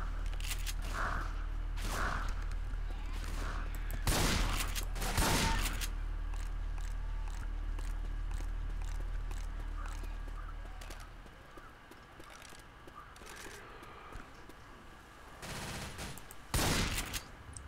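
Gunfire in a haunted-forest shooter video game: several sharp loud shots in the first half and another burst near the end, over a steady ambient bed with faint bird calls.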